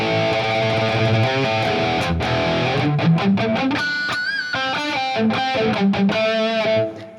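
Distorted electric guitar played through an amp preset on a NUX MG-30 multi-effects unit, chords and melodic runs with effects, clear and upfront, no talking.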